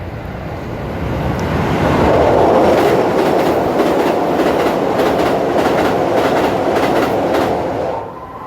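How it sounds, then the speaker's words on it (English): An elevated train in Tokyo passes directly overhead, a loud sustained rumble with rhythmic clickety-clack of wheels over rail joints that swells in and eases off at the end. "Train is coming. I'm going under the track."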